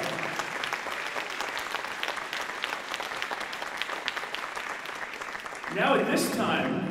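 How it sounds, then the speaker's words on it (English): An audience applauds steadily at an indoor high school marching band performance, the dense clapping holding at an even level and then swelling louder near the end, with voices mixed in. "You all deserve a round of applause."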